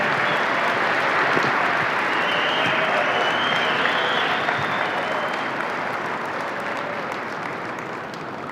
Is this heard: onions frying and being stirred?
no